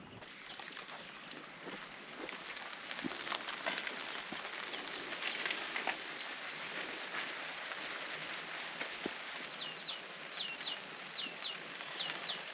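Rain falls steadily on a surface in Portugal, making a continuous close hiss and patter. A few brief bird chirps come through near the end.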